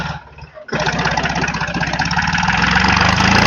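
A Force OX 25 orchard mini tractor's engine starts with a quick catch after a brief quiet moment, then settles into a loud, steady diesel-like running rumble close by, slightly building toward the end.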